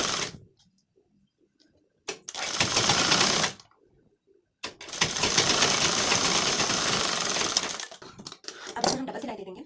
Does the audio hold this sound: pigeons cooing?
no